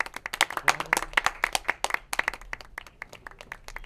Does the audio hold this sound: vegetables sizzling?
no